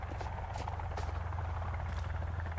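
In the video game Sons of the Forest, a helicopter drones with a constant rotor buzz, joined by a few faint clicks and brief noises.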